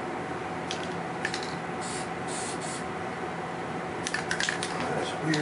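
A spray paint can gives short hissing test bursts, a few brief sprays close by over a quiet background hiss.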